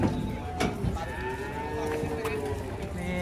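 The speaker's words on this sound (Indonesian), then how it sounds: "Nih banyak sapi lucu datang." Cattle unloading from a truck let out long, drawn-out moos with a low rumbling crowd and movement noise underneath, and a few sharp knocks along the way.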